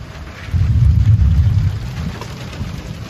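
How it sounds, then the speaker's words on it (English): Heavy rain and a deep rolling rumble of thunder during a nighttime thunderstorm on a sailboat, the thunder swelling loud for about a second before fading back into steady rainfall. "Lightning thunderstorms are never much fun on a sailboat."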